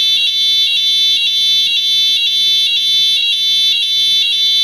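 A Honeywell Notifier fire alarm system sounds full evacuation with a loud, piercing electronic tone pulsing in a steady rapid rhythm, constant and close with no talking.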